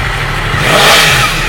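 A Yamaha crossplane superbike engine, from an R1M or MT-10 SP, revs hard with a dense, loud, steady roar. It holds through the whole short stretch and rises slightly midway.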